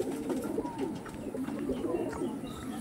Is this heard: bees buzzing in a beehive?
no